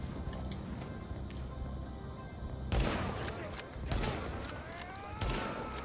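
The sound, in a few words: gunfire in The Division video game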